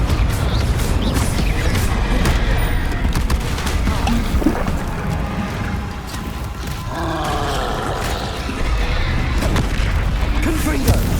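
Fire spell explosions in Hogwarts Legacy, with repeated booming blasts and roaring bursts over continuous low rumbling combat noise, loud and layered throughout.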